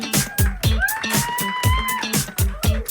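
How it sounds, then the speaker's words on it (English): A Table Topics crowd at the Highland Business Center claps loudly in a pulsing rhythm, with whoops and shouted voices rising over the strong beats. "Y'all gotta clap. Get loud."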